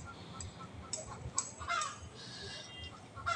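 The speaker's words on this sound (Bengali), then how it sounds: "পুকুরের মাঝখানে হাঁস চরছে" Ducks on a rain-swollen village pond give scattered honking quacks, moderately distant, over a steady outdoor background noise.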